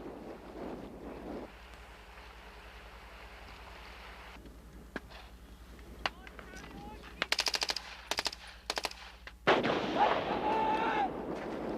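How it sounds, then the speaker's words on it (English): Bursts of automatic gunfire and single shots crack out during a Royal Marines commando exercise outdoors, some distant and some nearer in rapid clusters, over steady wind noise and an engine rumble. "Once the sniper opens fire"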